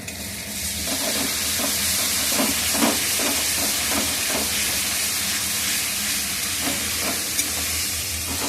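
Spices and ingredients sizzle steadily in hot oil while being sautéed into a kosha, a dense continuous frying hiss with soft scraping stirs throughout and no talking.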